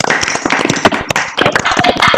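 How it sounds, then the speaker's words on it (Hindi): Children clap over an online school assembly in Cuttack, a scattered, uneven patter of many hands with sharp overlapping slaps that continue steadily throughout. "एक बार चाहूंगी कि सभी बच्चे अपना ऑडियो ऑन करके आरोहन के लिए तालियां"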